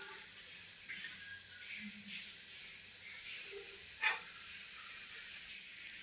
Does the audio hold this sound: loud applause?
no